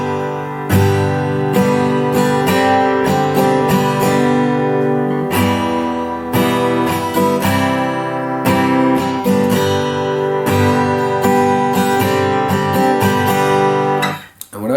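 A guitar strums the rhythm pattern for a song, with steady, full chords repeating in a driving rhythm for the whole stretch, loud and alone without any talking.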